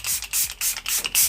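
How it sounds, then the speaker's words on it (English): Makeup Revolution Super Fix setting spray misted onto a face in about five quick, close, airy hisses spaced evenly over a second and a half, with no talking. "This is the Super Fix. Just gonna give my face a spray."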